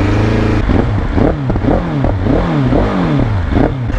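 A BMW S1000RR sport motorcycle with a failing engine revs repeatedly, its pitch rising and falling in uneven surges, loud and close with no talk.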